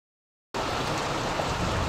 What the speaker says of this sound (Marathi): पाऊस चालू आहे मित्रांनो, जोराचा पाऊस आहे.